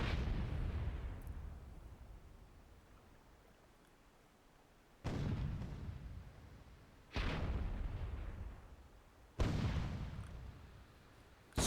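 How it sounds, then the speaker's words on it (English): Big explosions boom out in a Myth II: Soulblighter WWII-themed multiplayer match, four heavy blasts spaced a few seconds apart, each decaying into a long rumbling tail, with no voices. "we see some big explosions"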